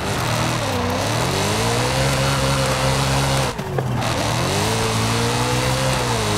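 A car engine revs hard and steadily while drifting through tight hairpin turns in the racing game Forza Horizon 5, loud and continuous, with pitch sweeping up and down and a brief dip midway.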